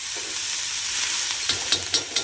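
Onion, chillies and peanuts roasting in a pan for Kolhapuri kharda, a steady sizzling hiss followed by several sharp scraping stirs near the end.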